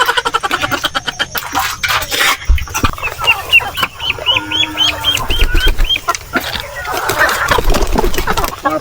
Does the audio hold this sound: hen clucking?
yes